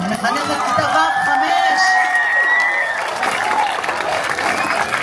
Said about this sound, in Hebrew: מחיאות כפיים למחנכת מיכל